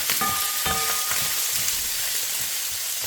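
Curry chicken feet fry in ghee in a pot, giving a loud, close, even sizzle with a few short clinks near the start, no talking.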